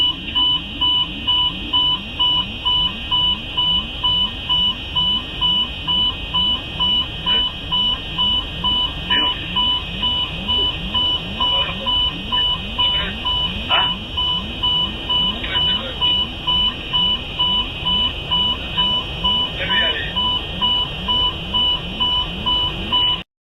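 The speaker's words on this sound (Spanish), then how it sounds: "La cabina estaba saturada de alarmas y voces que pedían calma." A steady, loud, repeating electronic alarm beeps on and on inside an aircraft cockpit during an emergency, its rapid pulses running unbroken for over twenty seconds.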